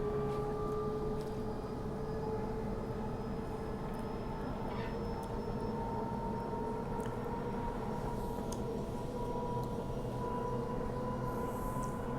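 Sydney Trains T1 A-Train running on the line between Richmond and Schofields, heard from onboard as a steady rumbling roll with a sustained whine, no voices.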